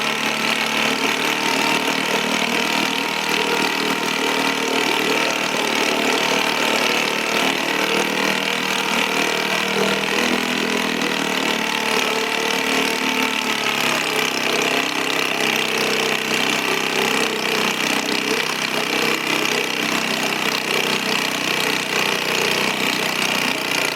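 Vintage 1939 chainsaw engine, timing lever set to the start position, running steadily and loudly up close in a dense, continuous mechanical roar with no break or talking.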